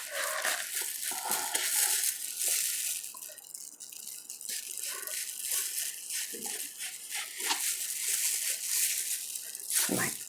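A knife cuts through a fresh watermelon with a close, wet, crunchy tearing sound. The juicy crackle runs almost continuously and swells in loud bursts as the blade works through the rind and flesh.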